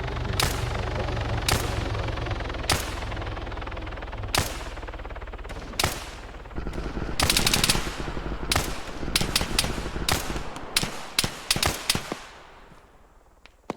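Machine gun fire in a military shooter video game, with repeated sharp bursts and single cracks spaced irregularly, then quickening into a dense cluster of shots over a steady low engine-like rumble.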